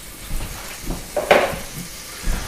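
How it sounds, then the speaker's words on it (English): About 30 grams of butter melting in a hot saucepan gives a soft sizzle, with brief scraping and clinking of a utensil against the pan. "Get yourself about 30 grams of butter and start to melt it down"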